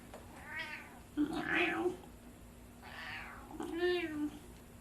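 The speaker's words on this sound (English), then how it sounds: "We have a kitty in the lab again." A cat meows several times in a workshop lab, drawn-out, close calls spread across the clip, with a faint electrical hum and light background noise underneath.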